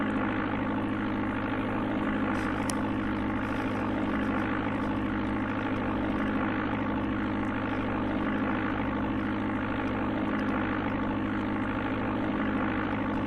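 Steady propeller airplane engine drone from the Amiga version of Flight Simulator II, a continuous unchanging hum with layered tonal bands, heard alone for the whole stretch.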